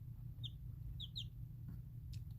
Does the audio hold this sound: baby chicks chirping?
yes